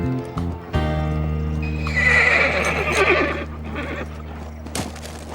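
A horse gives a loud, shrill whinny close by, with hooves clopping around it and a steady low rumble underneath.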